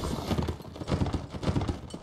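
Horse hooves clip-clop at a fast, steady gallop in a Civil War battle video game set in North and South, a rapid dense rhythm close and loud with no talking over it.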